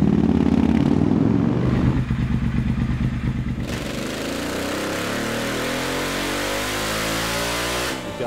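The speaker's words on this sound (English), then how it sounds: "to tune for the new exhaust, Aero racing exhaust that's not technically street legal, and this damn thing sounds really," A Triumph Thruxton TFC motorcycle fitted with an Aero racing exhaust revs loudly and close, its engine roaring through rising and falling pitch before settling into a steady rough idle, with no voices.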